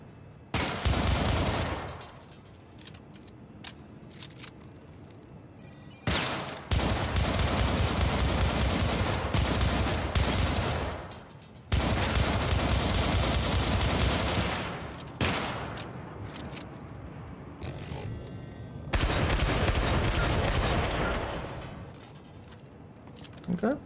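Rapid automatic gunfire from enemies strafing in the video game Syndicate, loud sustained bursts separated by short pauses, with faint rattles between volleys.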